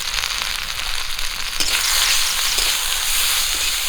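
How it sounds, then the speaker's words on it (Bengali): A spice paste of garlic, cumin, ginger, chili powder, turmeric and salt fries with onion, green chili, panch phoron and bay leaf in a pan. The oil sizzles steadily and loudly up close, with occasional stirring scrapes. "মশলাটা একটু ভাজা ভাজা করে নিব"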